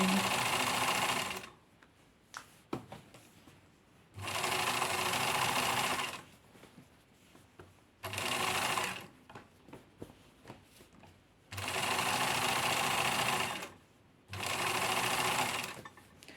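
An old sewing machine stitches fabric in several bursts of rapid whirring, each a few seconds long, separated by quiet pauses with faint handling clicks.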